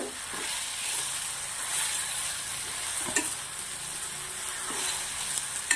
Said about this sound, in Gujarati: લાળ બળે ત્યાર સુધી ભીંડાને શેકી લેવાના છે